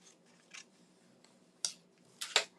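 Scissors cut through paper in a quiet space, giving a few soft, scattered snips; the last two come quickly together at the end.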